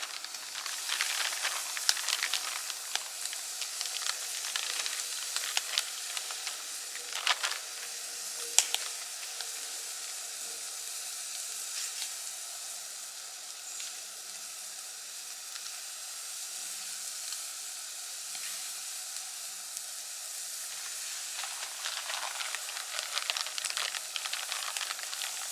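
A steak sizzles and hisses continuously while cooking outdoors on a bushcraft trip. The frying is steady and close, with occasional sharper spits and pops.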